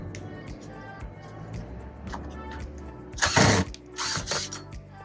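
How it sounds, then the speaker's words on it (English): A screwdriver unscrews the inside roof clips on an aluminum backflow enclosure, with soft ratcheting clicks and two louder metallic rattling bursts near the end. "you're going to want to unscrew your roof clips, your inside roof clips"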